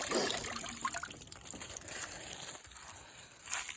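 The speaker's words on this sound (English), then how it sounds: "We'll just let the water drain out onto this garlic." Water trickling and splashing out onto garlic plants in a garden, a steady soft gush with faint crinkling, heard alone outdoors.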